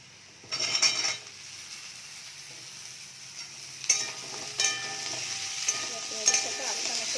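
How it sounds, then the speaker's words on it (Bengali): Potatoes tossed into a pan of lightly fried onions, a loud burst of sizzling followed by steady frying with metal spatula scrapes and clinks against the pan. "পেঁয়াজ আমার হালকা ভাজা হয়ে গেছে এর মধ্যে আলুটা আমি ছেড়ে দেবো"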